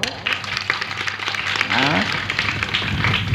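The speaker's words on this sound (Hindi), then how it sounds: "ताली बजाओ।" An audience at a religious discourse in Ayodhya claps together, the applause rising and filling the second half of the clip over a speaking voice.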